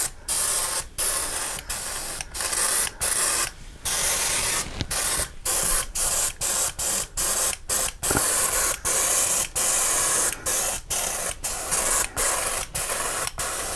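An airbrush sprays paint onto model railroad scenery, blending it into the adjoining tracks: a close, steady hiss broken by many brief pauses in an irregular on-off rhythm, with no talk.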